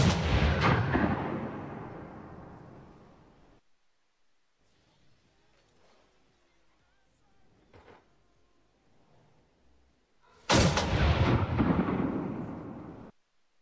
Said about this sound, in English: the fireworks at Champions Field after an update went from sounding like normal fireworks to sounding like cannons